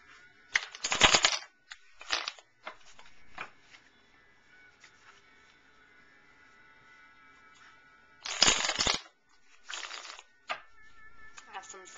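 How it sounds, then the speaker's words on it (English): Tarot cards riffled and shuffled by hand in two brisk, crackling bursts separated by quieter handling and faint rustles in a calm room. "I'm going to go ahead and shuffle the cards"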